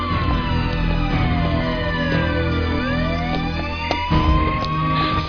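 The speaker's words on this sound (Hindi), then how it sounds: "सायरन की आवाज" Police siren wailing continuously over a steady noisy background, its pitch sweeping up and down in long rising and falling glides, loud and near throughout with no talk.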